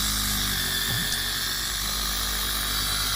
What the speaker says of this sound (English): And so now I'm sanding.